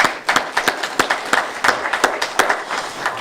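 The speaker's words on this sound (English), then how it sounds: "Let's give her a round of applause." Sparse clapping from a small group at a press conference, distinct individual claps at an uneven rhythm, fairly close and loud.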